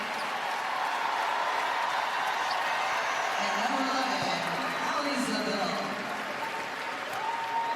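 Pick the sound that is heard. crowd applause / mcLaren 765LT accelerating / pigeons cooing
crowd applause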